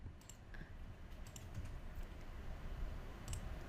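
Keys clatter on a computer keyboard while the shift key is held down, producing faint, sparse clicks at close range over a quiet room hiss.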